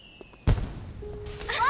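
Fireworks going off outdoors at night in a palace garden during a historical drama scene, a sharp bang followed by a rising whistling, crackling burst, with a voice briefly present.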